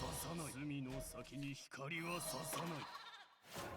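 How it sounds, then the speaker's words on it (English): A sheep bleats repeatedly as a Secret Sheep card effect triggers in the Shadowverse card game. The bleats are wavering, nasal and fairly close, and they come in several short bursts one after another. "Secret Sheep effect again"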